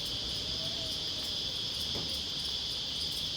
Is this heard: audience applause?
no